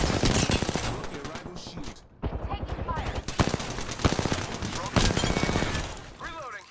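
Rapid automatic gunfire from the Apex Legends video game rattles in loud continuous bursts with sharp individual shots, while a player talks over the firefight.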